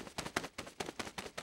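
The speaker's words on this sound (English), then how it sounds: "The real sound of flapping birds sounds like this." Rapid rhythmic flapping of bird wings, a steady series of soft whooshing beats close by, with no voices.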